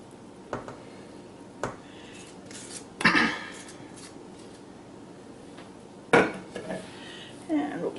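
A spatula clinks and scrapes against a dish while icing a red velvet cake with cooked icing, several separate sharp taps spaced irregularly over soft background noise.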